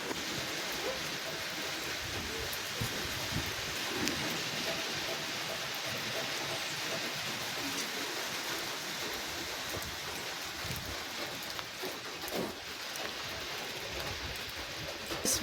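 Rain falls steadily on a wet, rainy day at a rabbitry, a continuous soft hiss with a few faint knocks and no voices.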